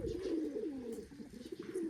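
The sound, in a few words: pigeons cooing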